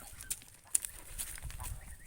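Geese honk in a backyard vegetable garden, giving a few brief, faint calls over quiet outdoor background.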